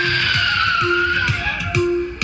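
Stunt car with a four-cylinder petrol engine skidding into an arena with a Swedish stunt duo, tyres squealing in a sustained loud whine over engine rumble, close and continuous, ending with a brief surge.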